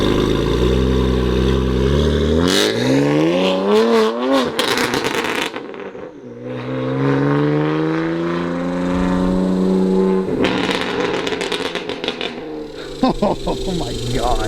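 A BMW M3 fitted with a Valvetronic exhaust revs hard, rising and falling through several loud throttle blips with deep burbles between them, while people talk excitedly over the engine.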